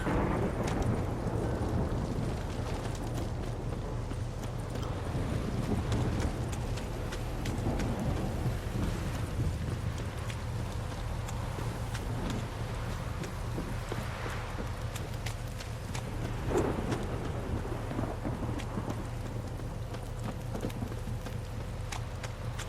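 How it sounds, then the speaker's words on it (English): Steady heavy rain roars throughout with low rumbles of thunder underneath in The Witcher 3, a dense continuous wash of sound with no talking. "This downpour's a bastard"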